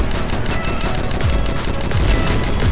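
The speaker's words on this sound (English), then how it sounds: "when I was using my Chieftain against Osmond later on in Sandstorm as shown in this video, the machine gun didn't do anything against his Chieftain" Rapid continuous machine gun fire from a Chieftain tank in the game Red Crucible Firestorm, a loud dense rattle of shots running without pause through the whole stretch.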